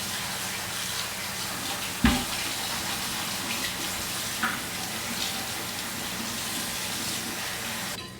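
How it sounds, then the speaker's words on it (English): Warm tap water runs steadily into a sink while a cast iron skillet is washed and scrubbed, a continuous close wash with one sharp clunk of the pan near the start. "I'm using just warm water and not super hot water"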